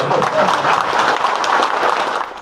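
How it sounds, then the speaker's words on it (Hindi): Audience applause at a BJP political gathering, a dense steady wash of many hands clapping, loud and close, fading toward the end. "ताली बजाइएगा।"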